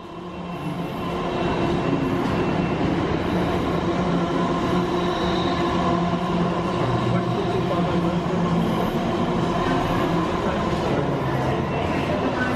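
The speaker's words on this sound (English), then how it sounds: "They're running a freight train." A freight train passes through Clapham Junction station, a continuous heavy rumble and clatter of wagons rolling steadily close by, with faint wheel squeal mixed in and voices talking underneath.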